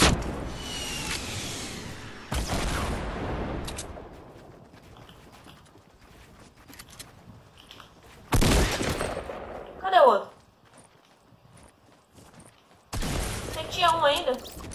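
Rocket launcher blasts in Fortnite: several loud broadband bursts erupt with explosive impacts and crackling debris, interspersed with quieter game ambience while players talk.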